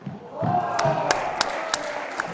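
Supporters of the Rotterdam team cheer and shout in a crowd at a Squash Eredivisie team match at the Frans Otten Stadion, a sustained swell of voices with a few sharp claps cutting through.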